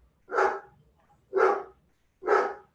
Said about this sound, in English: No, that's Scott's therapy dog